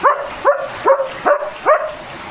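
A dog barks five times in a steady rhythm during heavy rain, close and loud, each bark short with a slight whine to it, no talking.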